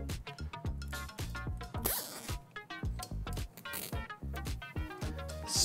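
Zip tie cinched around a bundle of computer cables as a cable spacer, its ratcheting teeth giving rapid runs of close clicks in several bursts over about six seconds, with a steady tonal backing underneath.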